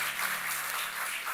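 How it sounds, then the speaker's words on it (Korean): A church congregation applauds during a Korean Sunday worship service. The clapping is soft, even and sustained, with a distant, roomy sound. "우리 주님께 감사와 영광의 박수 올려드리겠습니다."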